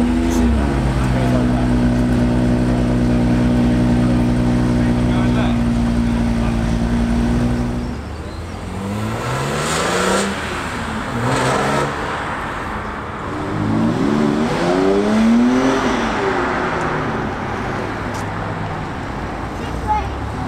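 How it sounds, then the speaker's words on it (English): A brand new BMW M5 starts up at a UK car meet, its engine first idling steadily and then revving in rising and falling sweeps, loud and close amid outdoor background noise. "something has just started up, I believe it is a brand new M5."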